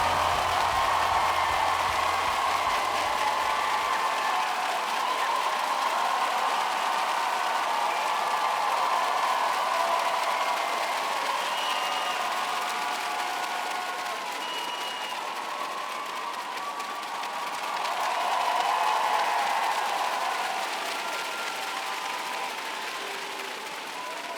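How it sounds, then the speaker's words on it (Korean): Sustained applause from a large record crowd as players enter for a Korea vs Japan women's football match, steady and fairly loud throughout, with a slight swell near the end and faint crowd noise mixed in. "박수 부탁드립니다."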